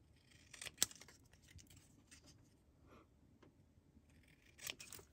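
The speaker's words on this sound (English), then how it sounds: "So now I can just cut this." Scissors snipping through card stock to make a scalloped border, a few quiet isolated cuts with soft rustling of paper between them, close and faint.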